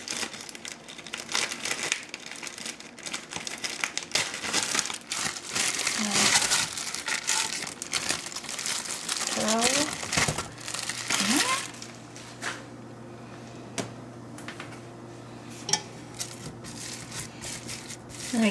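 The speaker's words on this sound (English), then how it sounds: "Just take it out of the packaging." Plastic packaging around ground beef crinkles and crackles loudly up close as it is pulled open and handled, then settles into quieter rustles and a few sharp crackles over a low hum.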